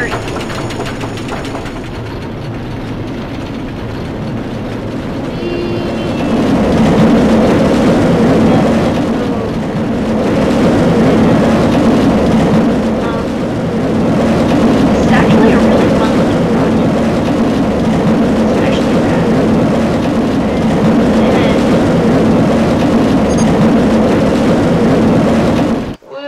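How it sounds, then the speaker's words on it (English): A train runs in the Roller Coaster Tycoon 3 video game, with a steady rolling, rumbling mechanical drone that swells and holds at a loud, even level for a long stretch. "Train."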